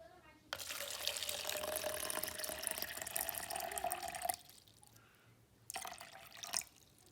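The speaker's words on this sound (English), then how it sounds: "And I'm going to add water." Water pours from a tap or container into a cup resting on a kitchen scale during soap making, a steady splashing stream for several seconds, a pause, then a shorter second pour.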